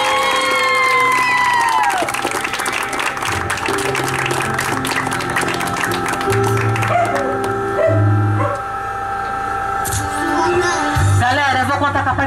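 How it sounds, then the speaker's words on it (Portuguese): Crowd applause and cheering at a lively party celebration, with music playing, voices shouting over the clapping, and a dog barking in the mix, all loud and close throughout. "Uma salva de palmas para ela"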